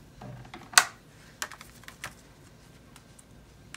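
Backing is peeled off a strip of tear-and-tape adhesive while crafting a card front: one sharp crackling rip near the start, then a few light ticks and taps close by, with no talking.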